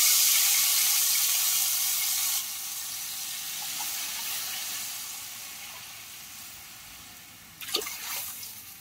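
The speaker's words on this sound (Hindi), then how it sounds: "पानी हमने इसमें ऐड कर दिया।" Water poured from a glass into a cooking pot to boil rice for white pulao, a steady broad rush that drops a little partway through, followed by a short clatter near the end.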